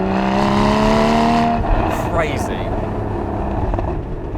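Porsche Cayman 981 GT4 engine on a public road, a steady loud drone that drops away as it downshifts from fifth to second, followed by rough engine and road noise while someone talks briefly.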